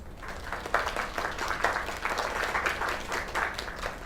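A crowd applauding steadily, a dense patter of many hands clapping at moderate volume without a break.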